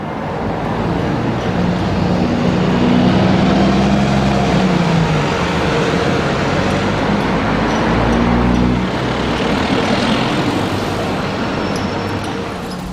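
An empty Enviro E282 London bus drives past at close range, a steady loud engine rumble with shifting tones that swells and fades across the pass, set in broader road traffic noise.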